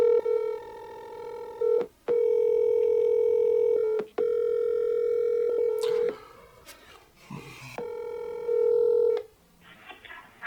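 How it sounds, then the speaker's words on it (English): Telephone keypad tones being dialed for a call, steady pure beeps held about two seconds each and separated by short clicks, with a muffled rustle between the later tones and no voices. "I'm gonna call her and pretend to be someone holding Tyler hostage for ransom"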